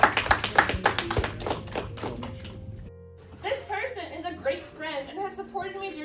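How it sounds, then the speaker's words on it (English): Students and staff clap for a student at a high school core value awards ceremony: a brief burst of close, loud claps that quickly dies away. A voice then speaks into a microphone. "Can we give a round of applause for Heidi anyway?"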